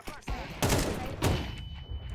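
Gunfire in the game Counter-Strike, two or three sharp loud bursts of shots with echoing tails, close and punchy against a quiet background.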